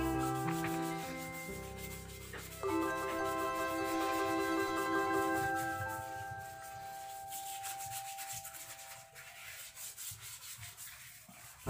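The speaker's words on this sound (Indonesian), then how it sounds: "kita gosok terus. Ini gosok sampai merata" A brush scrubs limescale from a bathroom toilet with steady, continuous rubbing strokes, close and fairly loud, alone without talk.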